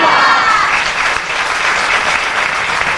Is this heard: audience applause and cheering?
yes